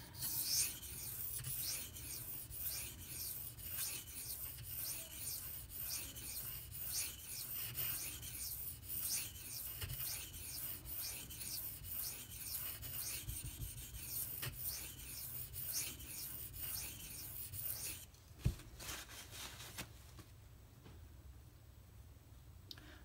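An s90v steel knife blade scrapes rhythmically across King and Suehiro Cerax whetstones, steady back-and-forth rasping strokes close up that stop near the end, followed by a brief knock and quiet.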